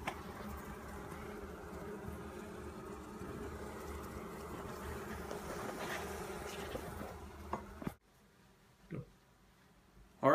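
A colony of honey bees hums beneath the floor of a 100-year-old house in Winchester, Kentucky, a dense steady drone for several seconds that stops abruptly, leaving quiet with a few faint knocks.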